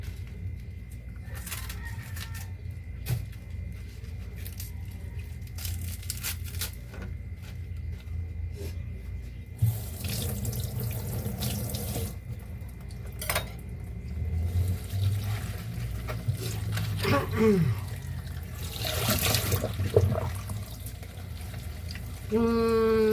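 Tap water runs steadily into a sink while pechay leaves are washed by hand, a continuous low splashing flow with occasional clatters, close by.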